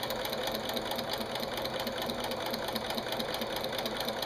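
A sewing machine runs continuously while stitching quilt binding strips, a steady rapid mechanical chatter at moderate volume without pauses.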